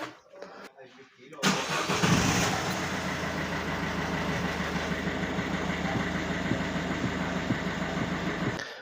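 A Peugeot 308 1.6 HDi diesel engine cranks briefly and fires up, then settles into a steady, clattery idle close by, with a voice talking over it.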